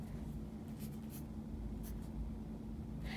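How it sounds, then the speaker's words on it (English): Pen or marker writing on a card in a quiet room, a few soft scratchy strokes in short bursts over a steady low background hum, no voices. "So I am going to write the word inner core."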